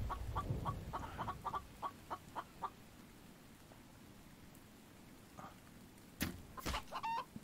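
Chickens in a survival video game cluck in a quick run of short repeated calls over steady rain-like ambience, then fall quiet before a few louder clucks and a squawk at the end.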